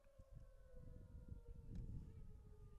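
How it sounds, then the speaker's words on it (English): A faint, steady siren wails in the distance during a varsity baseball game between Pascack Hills and Tenafly, holding a sustained tone over quiet field ambience. "And don't worry about that siren"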